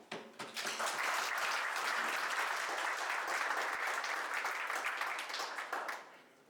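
A golf awards ceremony audience breaks into sustained applause, a dense, even clapping that rises quickly, holds for several seconds and tapers off at the close.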